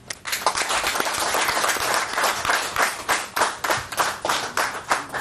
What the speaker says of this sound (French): je voudrais vous demander d'applaudir et d'accepter l'adoption de ce plan.